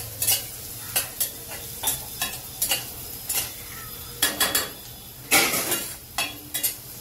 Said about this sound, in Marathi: आपला कांदा सुद्धा भाजतोय छान